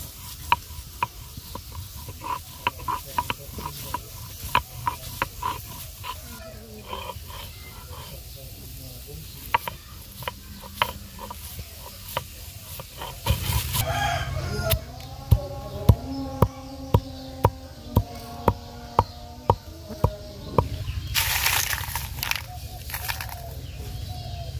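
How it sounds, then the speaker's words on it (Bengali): A stone pestle is rubbed and knocked on a stone slab (shil-pata) in a Sylheti village kitchen, grinding garlic and dried chillies for bhorta. Steady rhythmic clacks sound under a low background hum. "এখন শিলপাটা বেটে নেবে"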